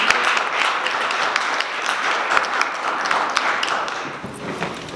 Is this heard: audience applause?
yes